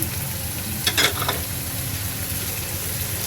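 Garlic, green chillies and shrimp fry in a pan with an even hiss close by. A short cluster of spatula scrapes and clinks comes near the one-second mark.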